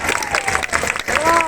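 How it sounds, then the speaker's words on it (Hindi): Audience applause and cheering for Akhilendra Mishra at a Sanatan Sanskriti Samagam stage event, a steady broadband crowd clatter lasting throughout with voices mixed in. "अखिलेंद्र मिश्रा साहब के लिए जोरदार ताली बजाइए"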